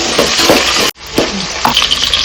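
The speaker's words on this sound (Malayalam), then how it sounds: "സവോള വഴറ്റും" Chopped onion sautés in a pan of ghee with raisins and green chilies for ghee rice, a dense steady sizzle with stirring scrapes, cut off by one brief silent gap before the frying noise resumes.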